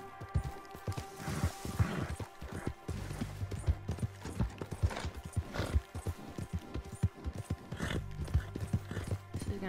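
Horse hooves clip-clop in a steady, uneven gait in Red Dead Redemption 2, loud and close, with an occasional whinny rising over the footfalls and faint game ambience behind.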